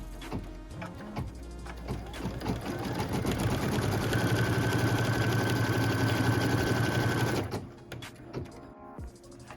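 A sewing machine stitching quilt block pieces runs in one steady, fairly loud burst of about five seconds, with handling clicks before and after.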